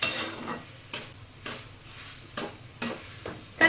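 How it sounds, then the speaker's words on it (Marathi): Grated ingredient stir-fried in ghee for semolina halwa, with a faint background sizzle and repeated rhythmic scrapes and taps of a spoon in the pan, about one stroke every half second to second. "छानपैकी याला पूर्ण मिक्स होईपर्यंत यामध्ये परतून घ्यायचं आहे"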